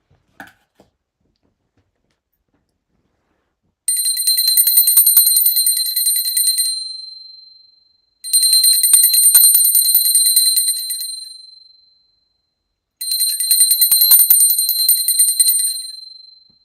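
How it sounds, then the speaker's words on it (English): A hand bell rung during a planetary pooja, three separate bursts of rapid, bright metallic ringing, each lasting a few seconds and ringing out clearly on its own with silence between. "Now I take a bell to offer the element of sound."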